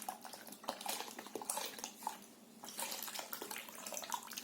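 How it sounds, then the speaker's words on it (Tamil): Milk is poured into a tropical layered dessert, 500 ml in all, a quiet splashing trickle with faint clinks of a dish and spoon, close and soft, with no voices. "இதுக்கையும் பால் ஊத்தும்."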